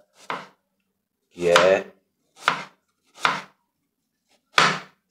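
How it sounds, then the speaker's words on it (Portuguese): A knife chops through an onion on a cutting board in five separate crisp strokes with short silent gaps between them, close and clear, with a brief bit of speech in Portuguese. "Eu vou começar aqui na cebola."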